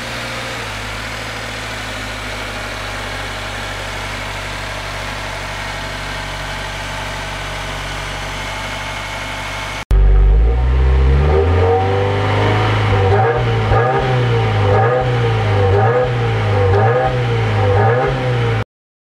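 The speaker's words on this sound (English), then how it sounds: "Let's listen to the engine." A 2015 Subaru WRX engine idles with a steady low rumble, then a louder, closer engine revs up repeatedly in rhythmic surges.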